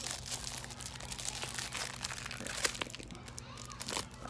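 A paper envelope from an advent calendar crinkles and crackles as it is opened, with close, irregular rustles and crunchy bursts over a faint low hum.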